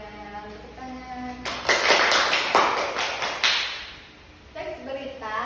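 Students in a classroom clap briefly in a short, close burst of sharp hand claps, with faint voices and quiet room sound before and after.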